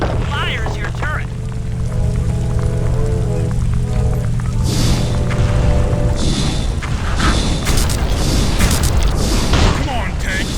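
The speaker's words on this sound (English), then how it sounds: "The R1 button fires your turret." A tank turret fires in the video game Sly 2, a heavy boom landing midway through a dense, loud game soundscape, followed by crackling, bursting noise that continues to the end.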